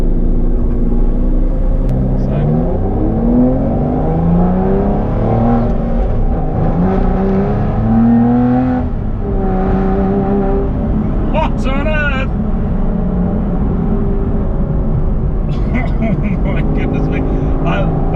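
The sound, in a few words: Aston Martin V12 accelerating at half throttle in sport mode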